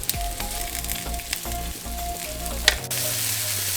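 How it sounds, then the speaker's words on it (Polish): Meatballs frying in a pan for spaghetti, a steady close sizzle with light stirring and clatter, ending in a brief clink and continuing quieter hiss. "pulpeciki ładnie się smażą"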